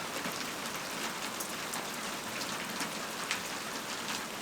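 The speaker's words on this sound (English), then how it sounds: "Even the rain is nice here." Steady rain patters densely on surfaces outdoors in a peaceful northern landscape near a small shelter hut, an even, continuous hiss with scattered drops and no voices.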